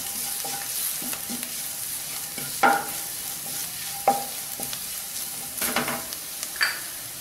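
Spice powders, including turmeric, frying in oil over low heat for egg biryani. A gentle, even sizzle is broken by intermittent spoon stirs and scrapes, with no talking.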